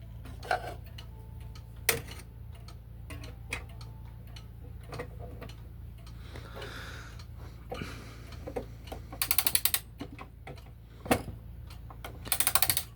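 A time-only Vienna regulator clock being wound: soft mechanical ticks and ratcheting clicks, with a few sharper metallic clacks and brief bursts of rapid clicking, close and fairly quiet.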